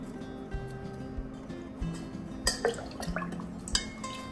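Pani water is poured into crisp puris filled with hot peas, onion and sev, giving faint drips and splashes with a few sharper clinks of glass or dishes near the end.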